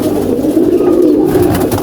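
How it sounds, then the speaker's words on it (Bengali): Several pigeons, some of them red, coo in a continuous low, throbbing murmur, loud and close, with overlapping voices and no speech. "এখানে আছে মনে হয় 6-7টা কবুতর।"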